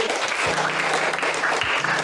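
Classroom students applaud a classmate's answer in a lesson, a close, even burst of many hands clapping that lasts about two seconds with a faint hum underneath.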